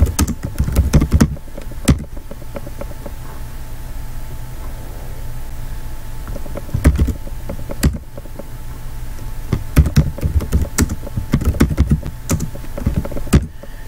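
Typing on a computer keyboard into a telnet session, heard alone as bursts of quick clicking keystrokes separated by pauses, close and fairly loud over a steady background hum.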